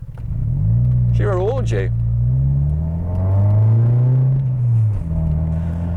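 A Peugeot 306 engine revs and pulls hard through the gears, its loud droning note rising, dipping at a shift and climbing again, while someone talks over it.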